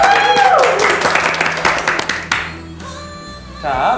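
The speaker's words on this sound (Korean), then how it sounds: "박수 한번 주세요!" Audience clapping for a performer at a K-pop idol show: a burst of hands clapping at the start that fades away, with voices and a musical tone over it and quieter background noise afterward.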